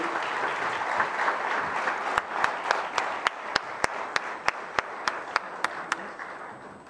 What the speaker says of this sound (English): Can we give a big applause to Ms. Lopamudra Banerjee?